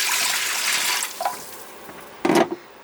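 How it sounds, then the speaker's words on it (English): Salt water pours briefly into a large cooking container aboard a sailboat, a soft splashing gush at the start followed by a couple of short, close splashes. "So I'm going to go ahead and add the salt water."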